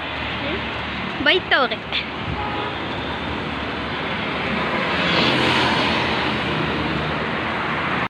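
Steady roar of passing vehicle traffic that swells and covers everything, with a few brief voices breaking through near the start.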